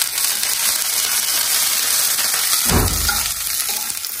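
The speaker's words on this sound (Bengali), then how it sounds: "আলু ভাজা হচ্ছে, সরিষাগুলো নাচতে শুরু করেছে" Potatoes and whole mustard seeds frying in oil in a pan, a steady crackling sizzle with a brief louder scraping stir midway.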